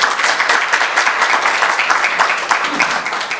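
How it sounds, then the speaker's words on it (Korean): Audience clapping steadily to welcome the opening of a founding ceremony for a small-business SNS marketing support association, a dense continuous patter of many hands filling the room. "모두 박수로 좀 환영해 주시기 바랍니다"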